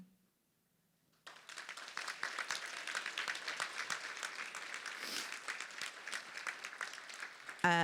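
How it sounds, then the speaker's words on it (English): After a brief silence, applause from an audience of delegates at a State of the Union gathering bursts in and continues as a lively, uneven round of many hands. "I'd like to ask for a round of applause for you, our delegates"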